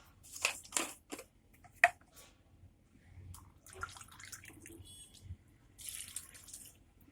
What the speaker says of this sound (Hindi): इसके साथ ही हम पानी ऐड कर देंगे।